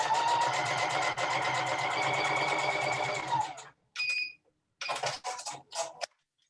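A sewing machine stitching quilt block pieces for a courthouse steps block, a steady mechanical whir for about three seconds, then several short bursts of stitching separated by pauses.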